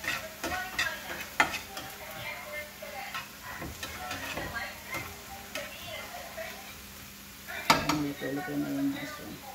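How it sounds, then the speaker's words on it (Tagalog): Mushrooms fry in a pan with a soft steady sizzle, broken by clinking stirs and scrapes of a utensil against the cookware. "Hintay natin maluto-luto konti yung ating mushroom."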